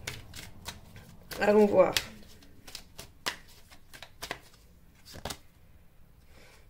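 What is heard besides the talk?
tarot cards being drawn and laid over another card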